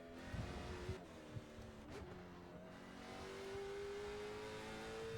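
Race car engine in the iRacing sim under full throttle out of a corner, a steady rising drone of revs with a few short knocks early, faint and alone.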